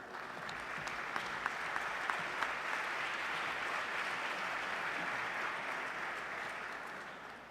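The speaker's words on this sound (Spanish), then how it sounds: "Lo recibimos con un aplauso" Audience applause welcoming a cardinal at a formal gathering, a soft, distant, sustained wash of clapping that stays even from start to finish.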